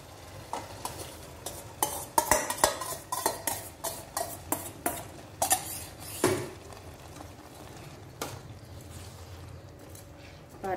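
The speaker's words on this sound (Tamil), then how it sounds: "இந்த ஜவ்வரிசியையும் இதுலயே கலக்கி விட்டுருங்க" Sago being stirred into a sweet mixture in a pan, a rhythmic run of loud scraping and clacking spoon strokes over a faint bubbling sizzle, close up, easing off toward the end.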